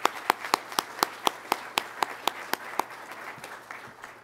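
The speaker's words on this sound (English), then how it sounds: "If I can get a round of applause for them as well." Audience applause at a pilot training graduation ceremony, rhythmic hand claps standing out over a softer crowd wash and fading toward the end.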